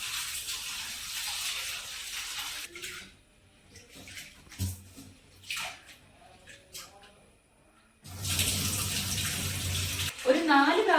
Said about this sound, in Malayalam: ഈ പരിപ്പ് കഴുകിയെടുക്കാം കേട്ടോ.